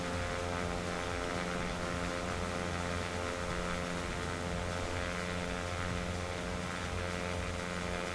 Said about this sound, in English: this is what's known as a non-ideal landing